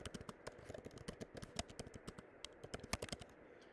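Rapid, steady typing on a computer keyboard: dense, crisp key clicks in quick succession, close and clear, with no voices.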